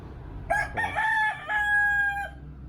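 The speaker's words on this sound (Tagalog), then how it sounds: "Yung mga manok ng kapitbahay" A rooster crows loudly and nearby, one long drawn-out call with a short break in the middle, against quiet background noise.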